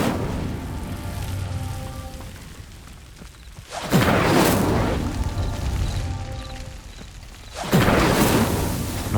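Incendio fire spell in a Harry Potter video game during a Trials of Merlin challenge, sounding as two loud whooshing bursts of flame a few seconds apart over a soft, crackling ambient background.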